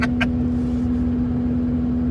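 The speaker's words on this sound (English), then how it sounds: "as the wheels are moving, it's making like a doot doot doot doot doot doot doot type noise" A Saturn Ion car drives along with a rhythmic doot-doot noise from the moving wheels, heard as a steady droning tone over continuous road and engine rumble from inside the cabin.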